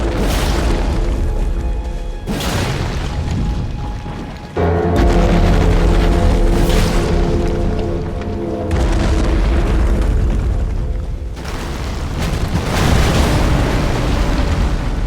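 A walking mausoleum collapsing in Elden Ring, a series of loud, deep rumbling booms and crashing bursts that come in heavy waves one after another, with no talking.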